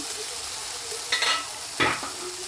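Peppers and white cheese sizzle in a frying pan with a steady hiss, broken by two or three louder scraping stirs, close up and with no talking.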